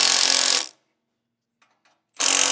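Loud steady whir of a power tool driving bolts on an exhaust clamp of a Segway Villain, fitting a Treal Performance Vader exhaust; two bursts separated by a quiet gap with faint clicks.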